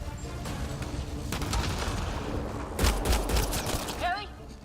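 Rapid bursts of gunfire from a firefight in the video game Mass Effect Andromeda, a dense crackling barrage under shouted voices, swelling louder near the end.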